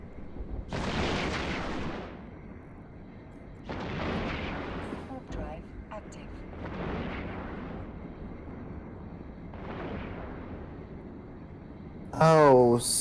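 Bursts of gunfire from a hostile NPC rat in the space game EVE Online, four or five broad rumbling volleys spaced a few seconds apart, moderately loud, ending with a sharper high whine.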